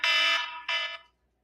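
An alarm sounds in two loud, close electronic blasts, a long tone followed by a shorter one after a brief gap, then silence.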